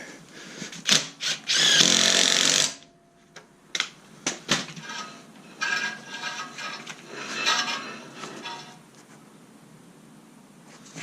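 A power tool whirs and ratchets in several short bursts, then one long run, while Ford Focus 225-width wheels are fitted onto a crashed Fiesta ST; loud and close, with clanks between bursts and no talk.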